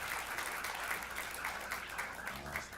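Sustained applause from the crowd at a women's open pool match in Las Vegas, dense steady clapping that carries on evenly throughout with no break.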